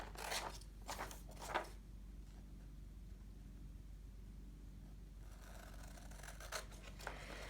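Scissors snip out a traced paper shape, a few close, soft crisp cuts at the start and again near the end with a quiet hiss between.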